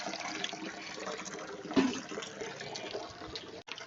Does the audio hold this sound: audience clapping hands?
no